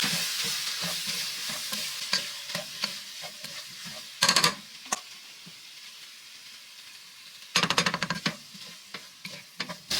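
Beef stew meat being stirred with sprinkled flour in a pot, with a steady sizzle and scraping spoon strokes throughout, plus two louder bursts of clattering stirring, no talking.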